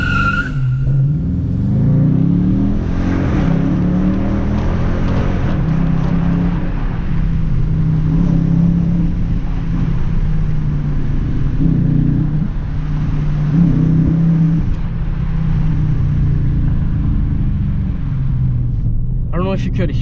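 Dodge Charger RT V8 in sport mode, heard from inside with the windows down: a steady, deep engine drone with heavy wind roar that surges slightly midway and stays loud throughout.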